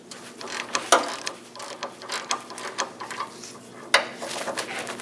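A ratchet with a 21mm socket works two bolts loose on a 2003-2025 Chevrolet Express 2500 front end, giving bursts of rapid clicking with sharp metallic clanks close up and no talking.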